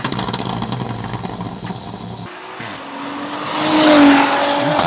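A tuned Audi engine of about 670 wheel horsepower growls and roars through its exhaust, dropping off briefly before building again into a loud, rising rev.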